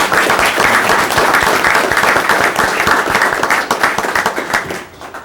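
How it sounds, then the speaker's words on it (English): Applause at a city council meeting for a newly appointed deputy city clerk: a room of people clapping steadily and loudly for about five seconds before it thins out and fades. "We'd like to give her a round of applause"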